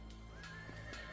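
A horse in the fantasy video game Sacred Gold lets out a short, clear whinny, with faint hoof clip-clops and steady game background noise.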